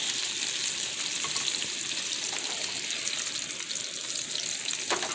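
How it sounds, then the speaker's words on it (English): Water poured into a hot pan of mushroom risotto, giving a loud, dense sizzle and hiss that continues steadily with faint stirring and bubbling, with no voices. "I'm going to add just a little bit of this water"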